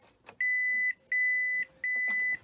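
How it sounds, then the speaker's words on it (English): An Epson XP printer with an ink pad error gives three long electronic beeps in an even pattern, each sustained for about half a second with short gaps between, loud and close. "Beeps at you and it comes up with an error message"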